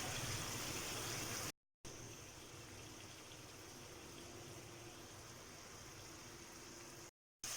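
Water cooking off in a pan of tawa kaleji (liver) gives a steady, close bubbling and sizzling hiss that runs throughout, broken by two short silent gaps.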